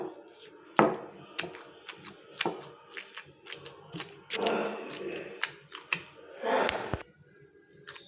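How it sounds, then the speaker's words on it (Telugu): Tamarind and tomato pieces being pounded in a stone mortar for a tomato chutney, with repeated sharp thuds in an uneven rhythm, close and moderately loud. "ఈ టమాటా ముక్కలను కూడా వేసి మెత్తగా దంచేసుకుందాం"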